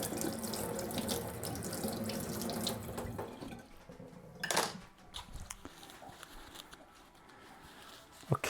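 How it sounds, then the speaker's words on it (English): Kitchen tap running into a sink to rinse a cake knife, a steady close rush of water that then thins into an uneven splashing trickle, with light clinks of metal. "I'm obviously gonna have to rinse it, because this is gonna be my cake knife."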